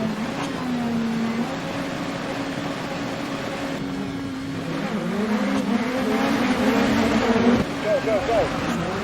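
In DiRT Rally 2.0, a rally car engine at the race start on a wet Höljes rallycross track is held at high revs, droning steadily and then climbing louder and rougher as it launches. A voice speaks over it.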